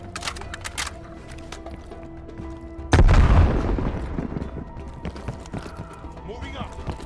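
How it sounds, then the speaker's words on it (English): A grenade detonates in Call of Duty: Black Ops Cold War, one heavy, deep boom with a long rumbling decay, following scattered gunfire and battlefield clatter, with distant shooting continuing afterward. "Incoming grenade!"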